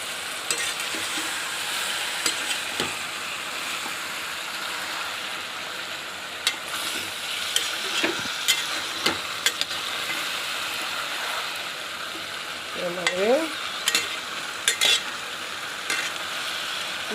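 Brinjal and okra frying in a pan while being stirred: a continuous sizzle with scattered scraping and clinking strokes of the spoon against the pan, close and fairly loud, with no talk.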